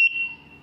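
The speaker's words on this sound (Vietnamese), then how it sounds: "Đây là còi báo mà nó sẽ kêu" A mini 12V DC alarm siren sounds one sharp, loud, high-pitched electronic beep close by. The beep holds steady briefly, then fades into quiet.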